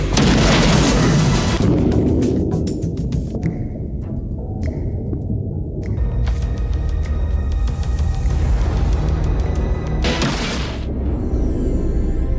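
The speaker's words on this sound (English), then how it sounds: "We're going to shoot this lava lamp with semi-automatic pistol." A 9mm semi-automatic pistol fired at a lava lamp, giving loud sharp gunshot blasts with a crash and scatter of debris, all set in a dense, loud action-movie soundtrack.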